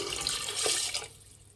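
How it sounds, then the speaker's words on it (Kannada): Two glasses of water poured into a cooking pot for drumstick biryani make a steady close splashing stream that runs for about a second and then stops abruptly. "2 ಗ್ಲಾಸ್ ನೀರು ಹಾಕ್ಕೊತಾ ಇದ್ದೀನಿ."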